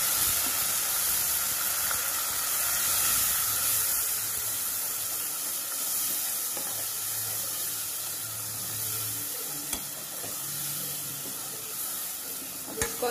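Garlic masala paste hits browned onions in a hot pan and sizzles loudly and continuously, with stirring scrapes and steady frying hiss throughout.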